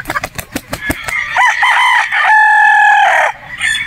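Boston Roundhead gamecock crowing loudly up close, a few sharp clucks leading into one long drawn-out crow.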